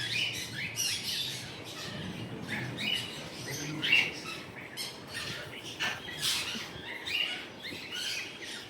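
Breeder female ringneck parakeets call in a caged aviary, giving repeated sharp squawks and chirps that come in bursts across the whole stretch at moderate loudness.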